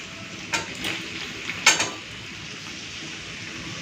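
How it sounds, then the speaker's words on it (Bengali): Spice paste frying with potato and papaya, a steady close sizzle with a few sharp spoon scrapes against the pan as it is stirred; no one speaks. "ভালো করে এবারে মশলাটাকে আলু পেঁপের সাথে কষে নেব"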